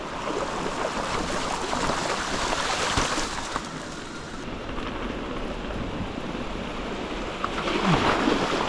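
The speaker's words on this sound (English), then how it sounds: "That water's running deep." A stream runs along a mountain bike trail, a constant loud rushing wash of water that stays steady throughout, with no talking.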